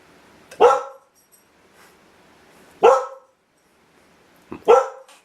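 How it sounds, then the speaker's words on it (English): A dog barks alone, loud and close, three times with long pauses between the barks. Each bark is sharp and a little rough, and it is quiet in between. "Go let my dog out!"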